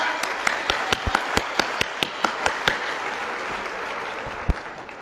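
Scattered clapping from a modest audience at a festival gathering, with a handful of distinct, sharp claps rising over a thin, steady patter that fades out toward the end.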